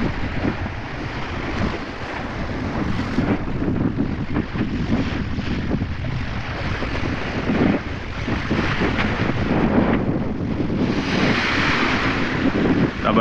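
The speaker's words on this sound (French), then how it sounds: "il y a une belle vague qui arrive derrière" Sea waves wash and wind rushes steadily around a sailboat under way near coral, the broadband surge and buffeting continuous throughout, with water noise swelling louder near the end as a wave comes up from behind.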